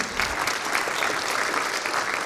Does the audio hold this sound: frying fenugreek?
no